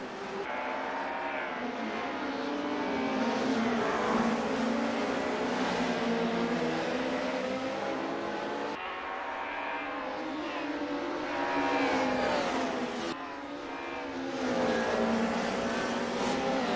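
BMW race car engine during a motor race, a loud continuous high-revving drone rising and falling in pitch with sharp drops at gear shifts, alone without speech.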